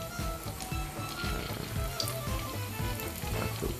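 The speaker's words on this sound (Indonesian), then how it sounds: "masukkan ke dalam wajan yang berisi minyak panas, digoreng hingga berwarna kecoklatan" Potatoes sizzle and crackle steadily in a wok of hot oil, with dense popping and spattering close by and no voices.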